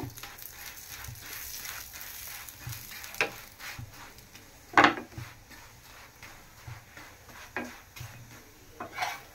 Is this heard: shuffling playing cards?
no